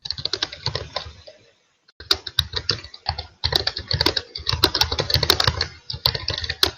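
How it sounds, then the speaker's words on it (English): Fast, irregular typing on a computer keyboard, a dense patter of close key clicks that stops briefly twice and then resumes, with no talking. "I could hear Mary typing away"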